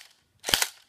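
A P30 toy gun fires a single sharp, close pop.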